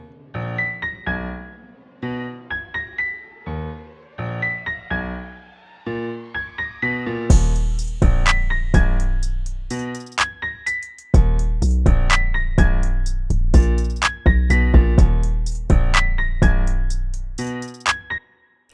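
A trap beat built in Soundtrap opens with a sparse piano melody, then heavy 808 bass and crisp drums come in for a loud, punchy instrumental loop, with no vocals.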